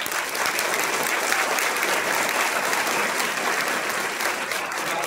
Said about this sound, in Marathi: पहिली टाळी आपल्या आईसाठी द्या.